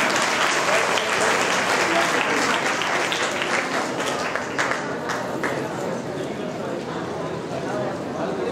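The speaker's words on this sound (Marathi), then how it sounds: "सर्वांनी एकदा टाळ्या वाजवून जय गुरुचं स्वागत करा." An audience claps steadily to welcome Jai Guru, a dense crowd applause that fills the whole stretch at a loud level and eases only slightly toward the end.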